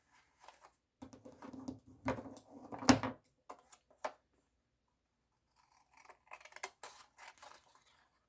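Scissors snipping through paper for a handmade journal set, a few short crisp cuts with soft rustling, quiet and close, followed after a pause by more light snips and handling taps.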